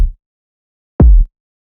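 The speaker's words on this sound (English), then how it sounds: "So here are the kicks" A single punchy sampled kick drum hit, deep and booming with a short decay, sounds alone after a brief low thump at the very start.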